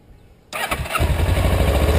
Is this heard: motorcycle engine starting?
yes